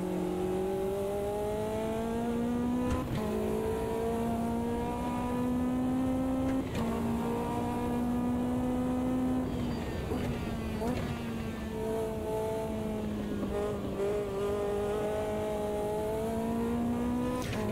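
Lotus 620R engine in the Automobilista 2 racing simulator, revving up and down through repeated gear changes with a loud, continuous, rising and falling drone and brief dips between shifts.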